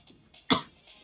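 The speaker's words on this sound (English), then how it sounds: "still got that cough. Really it's not getting any better." A single short, sharp cough from a character in the Tomodachi Life video game, heard alone at mid-loudness against a faint, quiet background.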